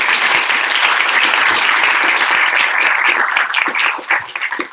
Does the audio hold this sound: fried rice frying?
no